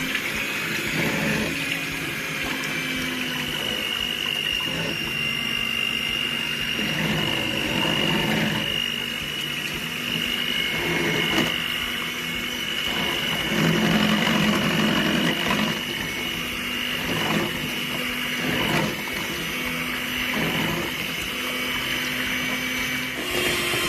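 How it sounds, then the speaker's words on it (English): An electric whisk beats double cream for homemade ghee, giving a steady, continuous motor whir with a sloshing, watery texture that holds the whole way through. Small bumps in level appear now and then, with no talking. "Begin whisking the cream."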